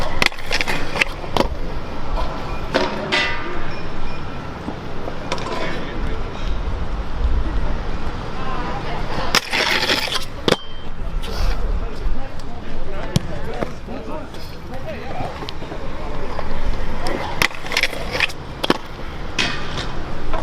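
Skateboard 5-0 grinds on a poor skatepark ledge on an Aztek Lucid board, with rolling wheel rumble, scraping grinds and sharp board clacks repeated over wind noise and occasional talk.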